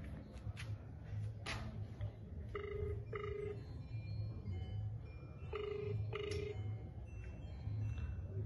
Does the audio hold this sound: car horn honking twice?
no